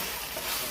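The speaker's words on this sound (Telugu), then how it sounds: "నూనె బాగా పైకి తేలేంత వరకు వేయించుకోవాలి ఇట్లా మసాలా" Masala paste sizzles and fries in oil in a pan, a dense, steady hiss heard close up with no voices.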